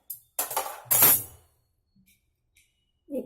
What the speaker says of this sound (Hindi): कोयला रखें।